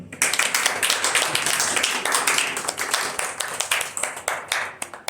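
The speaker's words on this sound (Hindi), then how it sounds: "अपने लिए जरा तालियां बजाएं।" Audience clapping at a religious gathering, a burst of crowded hand claps that swells quickly and stays lively, with uneven sharp claps thinning slightly toward the end.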